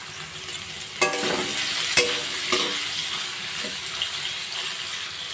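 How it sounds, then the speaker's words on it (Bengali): Chopped tomato frying in a pan with carrot and beans over a lowered gas flame, a steady close sizzle punctuated by a few sharp clinks and scrapes of stirring. "দু মিনিট একটু ভেজে নেব টমেটো কুচি দিয়ে দিলাম"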